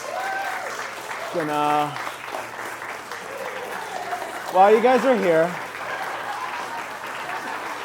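Guests at a wedding reception applaud the bride and groom, a moderate spread of clapping running underneath someone speaking into a microphone, whose voice stays on top throughout.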